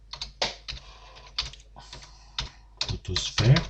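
Typing on a computer keyboard while adding text to a layer in Photoshop, heard as irregular bursts of close, clicky keystrokes separated by short pauses, with no voice over it.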